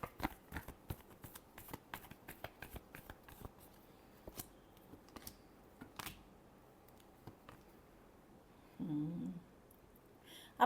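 Tarot cards being shuffled, a quick series of soft flicks and riffling taps, faint and close, ending in a brief muffled rustle.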